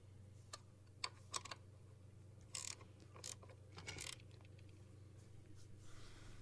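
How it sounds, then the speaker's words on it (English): Ratchet wrench clicking while snugging 10mm bolts on a 2012-2022 Grand Caravan 3.6 Pentastar engine, a few short faint bursts of metallic clicks over a low steady hum, close by. "I'm going to tighten them, of course, with a wrench"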